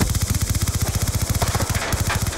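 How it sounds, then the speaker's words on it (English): Rapid automatic gunfire from the Black Ops 2 video game rattles in a fast, even burst of shots, with a short break partway through before the shooting resumes. "Why are you shooting me?"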